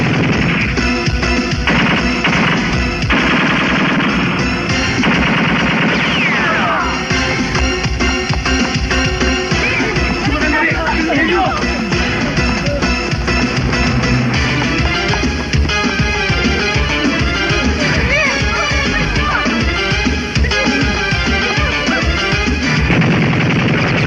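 Dense machine gun and rifle fire from a Filipino action film rattle almost continuously, loud and close, with heavy bursts, impacts and crashes layered over a dramatic soundtrack.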